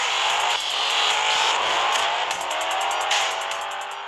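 Dodge Viper engine in a racing video game, a loud continuous high-pitched whine that climbs steadily in pitch as it accelerates, with brief tire-squeal bursts.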